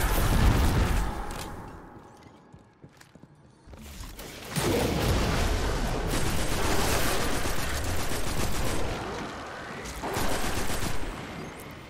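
Destiny 2 combat in a Legend lost sector, with a grenade launcher and rockets fired at a champion: repeated close booming blasts and bursts of gunfire, a quieter lull, then sustained loud explosive fire.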